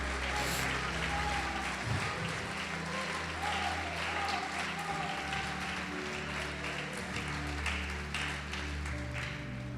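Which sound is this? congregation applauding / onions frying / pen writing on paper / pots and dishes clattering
congregation applauding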